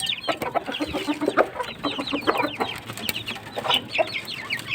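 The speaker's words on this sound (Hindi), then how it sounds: "ये मुर्गियाँ हमारी बाहर आ गई" Hens clucking busily just outside their cage on a backyard poultry setup, with a rooster-like cackle mixed in; steady overlapping calls close by, no talking.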